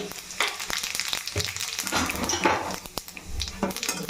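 Two dried red chillies, two bay leaves and half a spoon of cumin hit hot oil in a pan, making a short, close crackling sizzle mixed with clinks and scrapes of a utensil against the metal.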